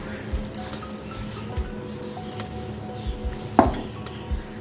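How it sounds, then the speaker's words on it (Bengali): Poha (flattened rice) being rinsed in water in a kitchen bowl, with soft sloshing, dripping and light clinks of the vessel, plus one sharper knock near the end; moderate and close, with no talk. "এখন আমি চিড়াটা ধুয়ে নেব।"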